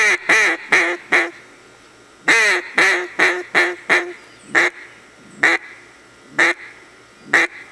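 A duck call is blown in a series of loud, close, nasal quacks, first in quick clustered runs, then spaced single notes.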